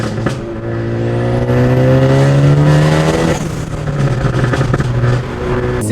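A big-turbo Ford Focus ST engine revs up and holds high, loud and close, its pitch climbing and settling before dropping off with a scatter of sharp exhaust pops and crackles.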